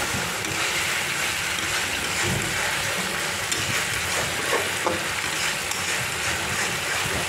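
Fish curry masala with boiled potatoes sautés in a pan, a steady close sizzle of oil with scraping stirring strokes running through it.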